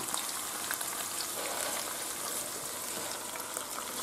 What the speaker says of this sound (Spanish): Ya se ha rehogado un poquito y echamos las espinacas.